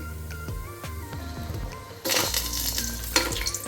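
Masala hits a pan of vegetable pulao, and a sudden loud sizzle surges up after a few soft clinks and taps of a utensil, continuing steadily up close.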